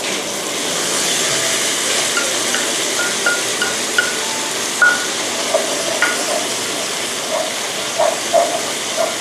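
Seafood stir-frying in a pan for a roasted chili paste dish gives a loud, constant hissing sizzle, with light clinks and scrapes of stirring picking up in the second half.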